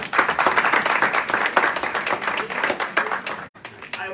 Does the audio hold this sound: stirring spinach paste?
no